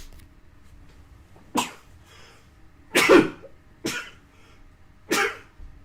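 Four abrupt, explosive bursts spaced about a second apart, sounding like sneezes or coughs from one person nearby, with quiet between them.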